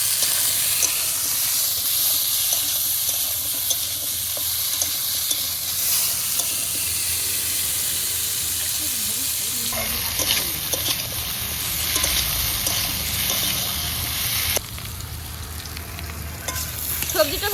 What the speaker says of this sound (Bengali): একটু হলুদ দিয়ে সবজিটা ভালো করে ভেজে নেব